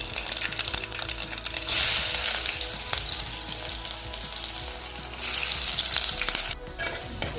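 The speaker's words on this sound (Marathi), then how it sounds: "लसूण टाकल्यानंतर थोडेसे जिरे मोहऱ्या झाल्यानंतर लगेच कांदे टाकून घेऊ थोडंसं" Onions sizzle steadily in hot oil with garlic, cumin and mustard seeds for a masala rice, a loud, continuous frying hiss with brief scraping stirs and a couple of louder bursts of crackle.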